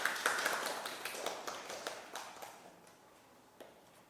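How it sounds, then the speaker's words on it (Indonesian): Small classroom group clapping in a university teaching session, a handful of sharp individual claps that thin out and fade over a few seconds, with one last clap near the end. "Beri tepuk tangan untuk kelompok 1."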